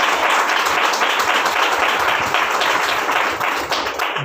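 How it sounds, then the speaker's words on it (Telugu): Worshippers at an all-night prayer meeting clap loudly in a fast, steady rhythm, close and dense, with no talk over it. "కొట్టని చప్పట్లు గట్టిగా"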